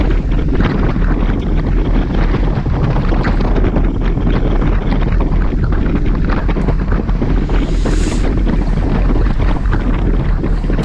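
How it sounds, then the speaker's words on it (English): Strong wind roars against the microphone during an outdoor group cycling ride, a loud, steady rumbling buffet that continues unbroken. "You can hear the wind."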